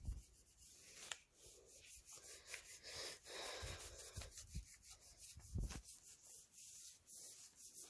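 A wax strip is rubbed firmly down onto a leg at home in a repeated close scratchy rasping, steady and quiet, with faint breathing underneath.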